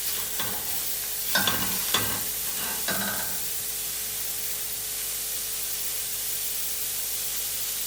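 Chopped onion sizzles in a hot pan while making kichari, with a few stirring clunks early on, then a steady, even frying hiss continues alone.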